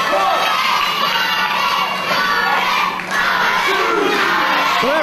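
A wrestling crowd roars and cheers loudly and continuously, with shrill shouts rising out of the din and one brief dip before the noise surges again.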